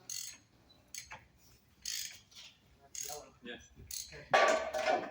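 Race car engine being turned over by hand in a race team garage: a series of quiet, close ratcheting clicks in short bursts about once a second, ending in a slightly louder mechanical clatter.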